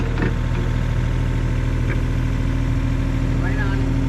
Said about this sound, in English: I'm gonna crank up the throttle and try to focus the pressure on that